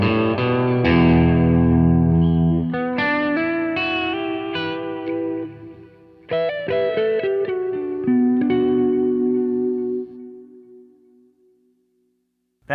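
Electric guitar run through a pitch-shifting effects unit, playing sustained chords and note runs with a distorted, slightly chorused tone that swells, cuts briefly, returns and then fades away, with no talking.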